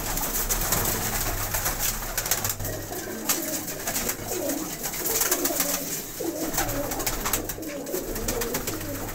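Pigeons, young males bred for flying competition, coo and rustle in a loft, a dense steady murmur of soft calls with frequent brief flutters and clicks over constant low background noise.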